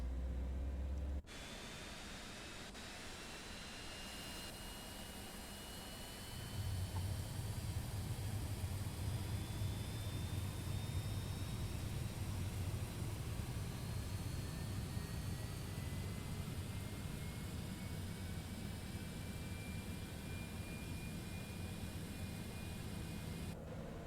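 A Citation X right engine spools up in MSFS 2024, a steady broadband whine and rush joined partway through by a louder low roar and rising tonal sweeps, continuous with no talk.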